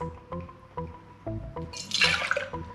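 Non-alcoholic bourbon poured for a cocktail, two ounces going into a glass as a bright splashy trickle of liquid that builds and swells near the end, set against a few soft clinks and taps close by.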